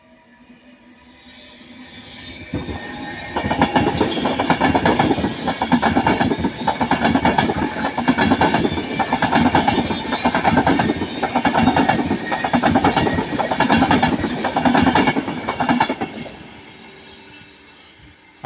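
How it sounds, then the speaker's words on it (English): An Avanti West Coast train passes at Ardwick, building from a quiet approach into steady rumbling with rhythmic wheel clatter over the rail joints, then fading near the end. "39118 for Avanti West Coast is coming now."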